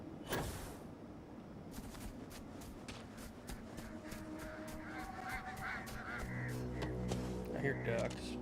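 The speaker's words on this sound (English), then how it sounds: "I hear ducks." Ducks quack and honk in the video game Starfield, a scattered run of nasal calls rising over a dense ambient bed of in-game sound, growing busier toward the end.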